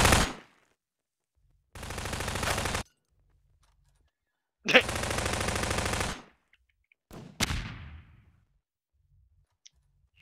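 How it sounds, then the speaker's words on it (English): Bursts of rapid automatic gunfire in the game Garry's Mod (Prop Hunt mode), several sustained volleys separated by silence, crisp and close, sounding like game weapon effects. "No, but I can hear the gunfire."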